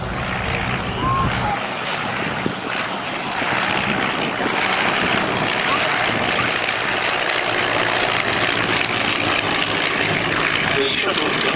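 A vintage aircraft powered by a 40 horsepower Armstrong Siddeley Lynx engine drones steadily at an airshow at Shuttleworth, Old Warden, with a broad continuous engine roar and a voice commentating over it.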